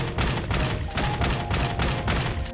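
Rapid gunfire from Nikke: Goddess of Victory, a loud, evenly spaced stream of shots with a rattling rhythm that continues for a couple of seconds.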